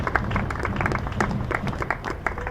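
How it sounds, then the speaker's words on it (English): A crowd at a women's cricket match between Sunrisers and Southern Vipers applauds a player, producing scattered, steady clapping with a dull rumble beneath it. "And applause there for Joe Gardner."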